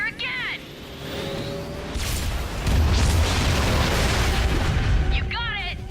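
Starwatch ion cannon blasts hitting battleships in a Ratchet and Clank game, with deep booming explosions and rumbling that build and sustain, framed by short electronic chirps at start and end.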